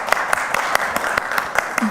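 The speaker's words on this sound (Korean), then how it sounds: "큰 박수로 맞아주십시오" A seminar audience at a gender-equality policy forum claps to welcome a keynote presenter, with sparse, distinct hand claps sounding at an uneven rhythm, moderately close, before a voice starts at the very end.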